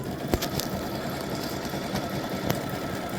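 A sewing machine runs steadily while stitching a bow directly onto a T-shirt, a continuous mechanical whir with a few faint clicks and no talking.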